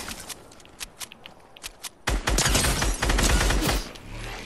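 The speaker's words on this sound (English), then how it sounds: "Nah, I'm getting shot at, I'm out." Gunfire in the video game Fortnite: scattered light taps at first, then a dense, loud burst of rapid shots and impacts lasting a couple of seconds.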